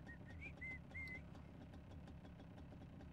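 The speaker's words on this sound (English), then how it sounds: "Who's whistling at me?" Quiet, quick whistled notes chirp several times in the first second, then fade under a low, steady engine-like hum.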